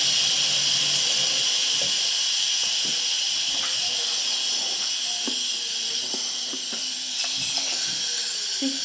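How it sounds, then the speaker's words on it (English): Steam hisses steadily from a milk frother's steam wand after frothing, a loud continuous rushing hiss with faint clicks and knocks underneath. "So I'm just gonna let the steam come out."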